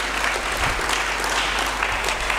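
An audience applauds for Lumumba during a pastor's address, a dense, steady wash of clapping hands that holds at full strength throughout.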